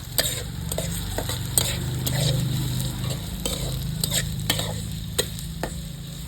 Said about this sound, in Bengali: পেঁয়াজটাকে লাল করে ভেজে নিতে হবে হালকা ব্রাউন কালারে হয়ে গেছে